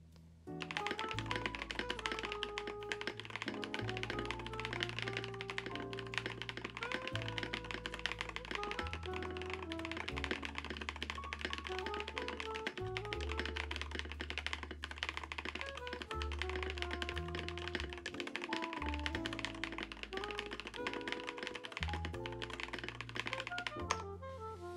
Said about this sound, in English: I'll type the same thing again.